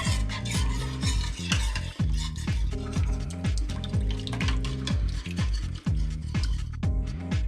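A spoon scrapes and stirs French onion soup in a pan, a steady close rhythm of repeated strokes with a soft bubbling wet texture and no speech.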